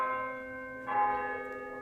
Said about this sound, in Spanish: Suenan las campanas.